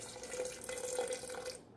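About four ounces of water poured into drained beans for vegan Veracruz-style eggs, a quiet, steady splashing stream lasting under two seconds before stopping.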